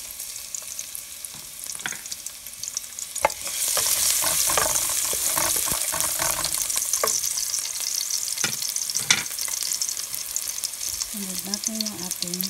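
Garlic sautéing in a pan as the base for Filipino sopas, a steady close sizzle that swells after a few seconds, with scraping stirs and knocks against the pan and a brief voice near the end.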